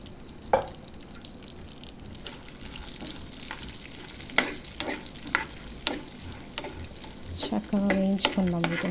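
Cashews, almonds and pistachios fry in a pan with a soft continuous sizzle, punctuated by repeated sharp clicks and scrapes of stirring, growing busier toward the end with a faint voice briefly underneath.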